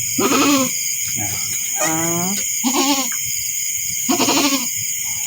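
A baby goat bleats four times in short, wavering cries, close and loud, over a constant high electronic hum.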